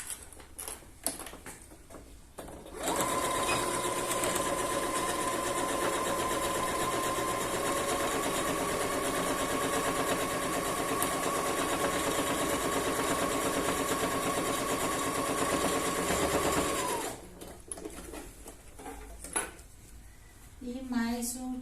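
Domestic sewing machine stitching patchwork fabric, a steady, fast, close mechanical whir running for about fourteen seconds before stopping, with faint handling clicks and someone speaking softly before and after.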